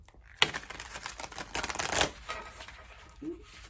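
Tarot cards are shuffled close by in a quick riffle of crisp flutters and taps, with no talking.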